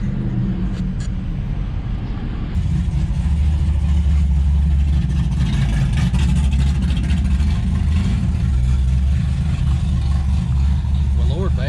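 A loud Dodge engine at a local car cruise rumbles steadily and close by, swelling after a couple of seconds and holding a heavy low drone while people talk over it.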